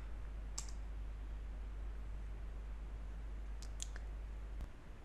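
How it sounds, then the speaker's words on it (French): A few faint, sharp clicks stand out over a steady low hum, one early and a small cluster near the end, like the Enter key being pressed on a computer keyboard. "Valide cette commande en appuyant juste sur la touche Entrée de ton clavier."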